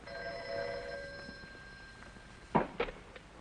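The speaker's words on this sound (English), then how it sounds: "That was Ratka on the phone?" An old telephone bell rings in a 1952 radio drama, a sustained metallic ring that stops and is followed by a couple of handling knocks as the receiver is picked up.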